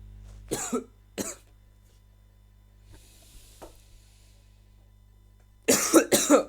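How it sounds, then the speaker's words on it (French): A few dry coughs up close, a pause with faint rustling, then a louder burst of several rapid coughs. "je suis désolé, j'arrête pas de tousser"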